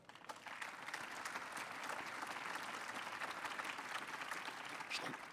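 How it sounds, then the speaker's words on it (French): Sustained applause from a conference audience fills the whole stretch, dense and steady with a brief rise in intensity near the end. "Je voudrais entendre plus d'applaudissements que tout à l'heure."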